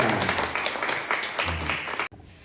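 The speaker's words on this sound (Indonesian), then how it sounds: "Tepuk tangan dulu." Students applaud in a school public speaking training session, a dense burst of close clapping that stops abruptly near the end.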